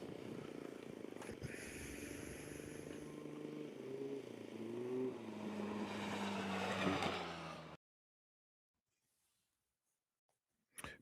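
Off-road race cars at a NORRA Baja qualifying run near Ensenada, engines droning and rising in pitch as they pass close by, then cutting abruptly to silence before a brief burst returns.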